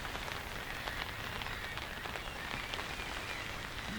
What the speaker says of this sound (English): It's freezing cold and the rain still hasn't stopped.